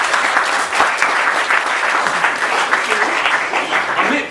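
Audience applause for a volunteer joining a speaker on stage, loud continuous clapping from a sizable crowd that fills the whole short stretch.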